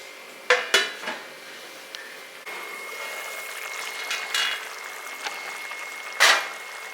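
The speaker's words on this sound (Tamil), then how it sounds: "இப்போ மூடி வச்சிடலாம்" A metal lid clatters onto a pot of simmering curry with a few sharp clinks, then a low simmering hiss and one last loud clang.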